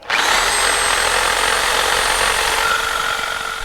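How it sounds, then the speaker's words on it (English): A cutoff wheel slices through a rusty track bar mount on the front axle of a 1999–2004 Jeep Grand Cherokee WJ, a loud, steady high-pitched grinding whine that holds without a break from start to finish. "I'm gonna cut that off the axle, and then the rest of it we're gonna have to grind off with Probably a death wheel."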